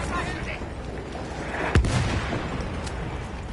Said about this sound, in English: There's that barrage that drops after each objective has been completely taken